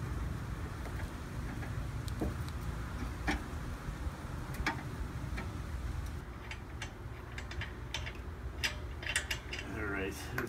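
Wheel bolts on the front of a 2014 Ford Mustang 3.7L V6 are loosened with ratcheting mechanical clicks, close and intermittent, over a constant low rumble and some faint talk.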